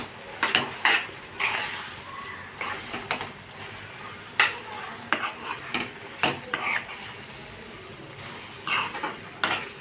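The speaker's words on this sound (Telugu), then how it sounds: "ఇలా వేసుకొని బాగా నూడిల్స్కి పట్టేలాగా కలుపుకోవాలండి" A spoon stirs vegetable Maggi noodles with masala in a pan, making repeated scraping clinks against the metal over a soft sizzle, close up and irregular in rhythm.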